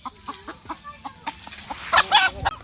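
A chicken clucks in a rapid series of short, close clucks, rising into louder, more agitated squawks near the end.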